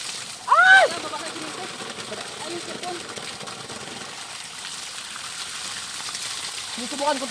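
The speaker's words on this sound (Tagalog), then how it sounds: "naliligo kami ngayon sa gripo" Water runs steadily from a faucet with a constant splashing hiss while people bathe outdoors, and a voice briefly calls out near the start.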